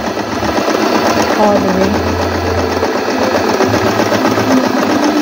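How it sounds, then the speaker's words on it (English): A Stitchmaster tabletop sewing machine runs a straight stitch in two steady motor bursts with a brief pause between them, its close mechanical whir sounding under a speaking voice. "We're doing a straight stitch now, right? So we'll start with straight stitch, and we'll just go ahead and sew"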